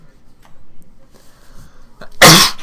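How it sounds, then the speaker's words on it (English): A single sharp, loud sneeze bursts out near the end, after a stretch of quiet, scattered background noise during a Happy Wheels game session. "I'm gonna sneeze."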